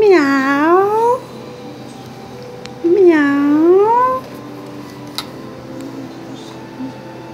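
A cat meows twice in long, rising-and-falling harmonic cries, each lasting about a second, loud and close against a quiet room.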